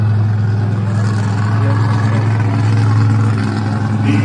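A monster truck engine, T-Rex, rumbles loud and close at a monster truck show, a steady low throbbing idle with no break and a faint crowd murmur underneath.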